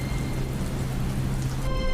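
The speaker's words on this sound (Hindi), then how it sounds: "तभी तेज बारिश का झोंका आता है" Heavy rain pours in a Hindi cartoon, a steady dense hiss that stays loud and constant throughout with no voices.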